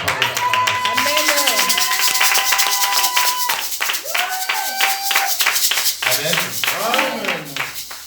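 A church congregation claps in steady rhythm to acclaim God, the dense run of claps continuing under singing and spoken voices throughout.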